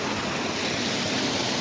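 Steady broadband rush of a creek flowing beside a hiking trail, the water running higher than usual and sounding rougher, a continuous close wash with no voices.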